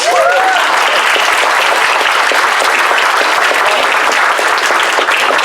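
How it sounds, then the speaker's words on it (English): Dense, steady audience applause fills a convention panel room at MFF 2017, loud and sustained for several seconds with a faint whoop at the start. "Give a round of applause."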